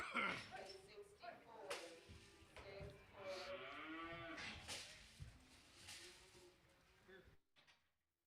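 Bush cattle low at a livestock auction in a stockyard sale ring, a drawn-out moo rising and falling over several seconds amid faint room noise before fading out.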